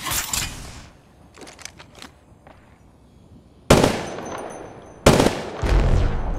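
R-301 Carbine in Apex Legends Mobile fires in sharp, loud bursts, a brief volley at the start and two heavier rapid bursts later, with quieter clicks and mechanical handling sounds between.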